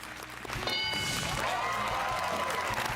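A studio audience applauds on a football talk show after a correct point-spread guess, with a swell of clapping rising suddenly and holding steady and fairly loud to the end.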